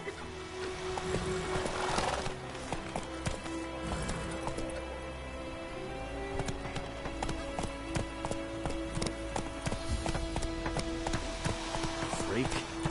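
A horse gallops in the video game The Witcher 3, with a steady rapid clip-clop of hooves and a whinny early on, while a voice talks over it.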